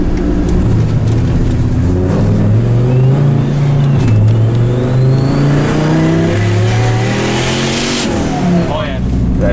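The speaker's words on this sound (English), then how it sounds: "we are shredding the tire" A 900 hp Dodge Ram 1500 holds a loud, sustained engine rev as its tire shreds, the strained roar rising and falling steadily and filling the whole stretch close up.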